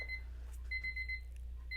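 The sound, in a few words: timer alarm beeping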